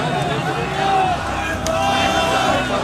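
A mob of protesters gathered outside the KGB headquarters in Dresden, a steady murmuring crowd noise with indistinct voices and shuffling, faint and continuous under a narrator's voice.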